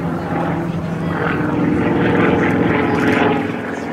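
A Sukhoi Su-29 aerobatic propeller airplane flies at the Volkel airshow, its steady loud engine drone swelling and fading slightly as it passes, with a voice talking over it.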